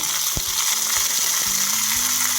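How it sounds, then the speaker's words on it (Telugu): Cumin seeds and green chillies fry in hot oil with a dense, continuous sizzle, broken by scattered pops and crackles close by and a faint tonal hum underneath, with no voices. "ఒక స్పూన్ జీలకర్ర అవి వేగిపోయాక నాలుగు పచ్చిమిర్చి"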